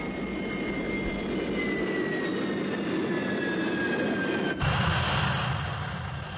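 A Harrier jump jet engine roars steadily through a rolling vertical landing, a loud broadband jet rumble with a falling whine, then an abrupt surge in thrust near the end.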